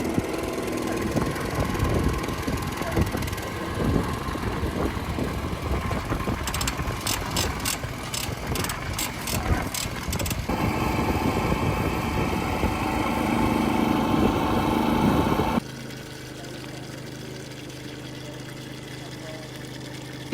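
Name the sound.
autonomous agricultural spraying drone flying over field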